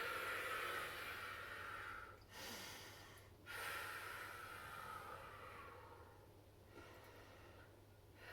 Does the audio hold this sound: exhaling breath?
yes